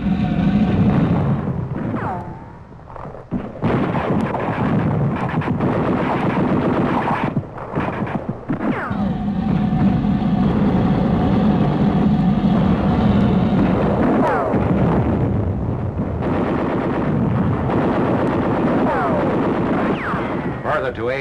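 Battle fire from machine gun nests and artillery on rugged hills rattles nearly nonstop, loud and close, with heavy booming blasts mixed in and someone narrating over it.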